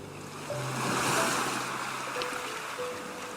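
Ocean waves surge as a continuous rushing wash, swelling early and then easing into a steady, distant roar with no voices.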